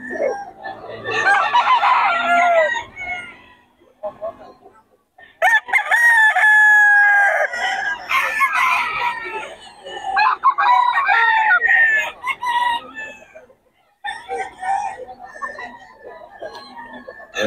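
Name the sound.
Sweater Gilmore gamefowl rooster crowing at a market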